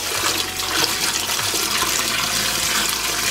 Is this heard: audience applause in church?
no